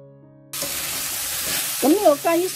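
Chicken strips and crisp courgette stir-frying in a hot wok with garlic and ginger, a loud steady sizzle starting abruptly, with short scraping stir strokes and a brief voice near the end.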